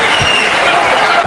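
A boxing crowd roars in a steady, dense wash of noise at a Vitali Klitschko versus Derek Chisora heavyweight world title fight, loud and sustained throughout.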